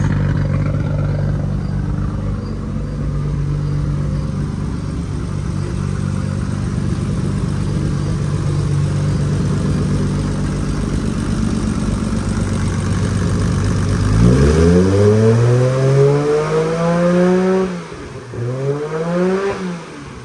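A Nissan R32 GTR runs on a dyno, its engine holding a steady loud drone before revving hard twice in rising sweeps, dropping back between pulls.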